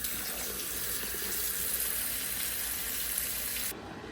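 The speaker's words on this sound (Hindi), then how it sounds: "अच्छा जी ये जो है अब हमने पानी इसमें शामिल कर लिया" Water pours steadily into a cooking pot of haleem in a home kitchen, a continuous hissing splash that runs unbroken, close and fairly loud, then softens abruptly near the end.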